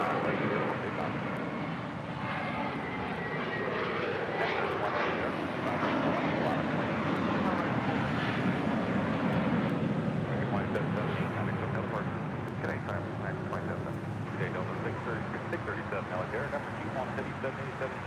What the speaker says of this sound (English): Coming in from Nashville, Tennessee, this is Spirit Airlines flight 1072